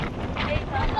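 Gusting wind buffets a phone microphone outdoors near a Nepali hilltop temple, giving a dense low rumble that lasts the whole brief moment, with a voice mixed into the roar.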